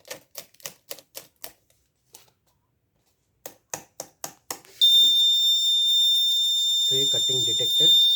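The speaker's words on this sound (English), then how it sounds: "Tree cutting detected, red LED on, alarm on." Sharp rapid clicks come in bursts, then a loud continuous high-pitched electronic alarm from a tree cutting sensor sounds while a person speaks beneath it.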